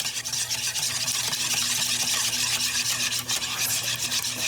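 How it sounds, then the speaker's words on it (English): Egg whites and vanilla being whisked by hand in a bowl until frothy, a steady, continuous scraping and swishing that carries on close and alone with no talk. "I'm just going to whisk this together until it becomes frothy"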